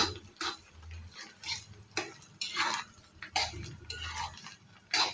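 Egg fried rice is tossed and stirred in a pan, with repeated scraping strokes of a spatula over a soft sizzle, rhythmic and fairly close.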